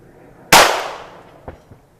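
A single sharp shot from a Ruger Mark IV or Browning Buck Mark pistol cracks close and loud at a bullseye target range, then decays, with two faint small knocks following.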